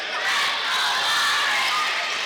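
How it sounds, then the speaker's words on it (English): A crowd in a high school gym chants "Let's go Lawrence" during a boys' basketball quarterfinal playoff game against St John's, a steady, loud, massed roar of voices that fills the whole moment without a break. "Let's go Lawrence, the chant from the crowd"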